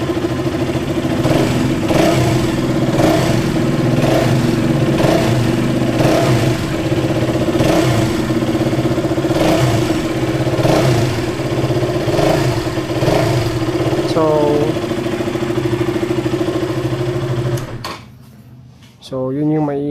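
A KTM Duke 200 motorcycle engine runs loud and close, holding a steady throbbing idle with periodic pulses and a brief rev before cutting off near the end.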